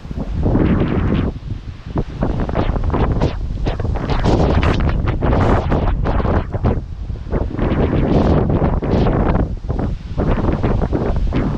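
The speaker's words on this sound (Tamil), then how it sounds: "அந்த இடத்துல மட்டும்தான் காற்று பலமாக வீசுச்சு. இங்கே வந்து அந்த அளவுக்கு இல்லை, ரொம்ப கம்மியாக தான் வீசுது." Strong wind blasting across the microphone on a hill trail on the way to Thoppaiyai Swamimalai, gusting loudly and continuously with rough buffeting and rustling for over ten seconds, no one speaking.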